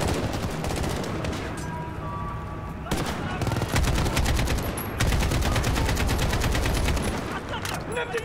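An AK rifle in Modern Warfare fires sustained rapid automatic bursts, loud and close, with brief pauses between long volleys and distant shots and effects mixed in.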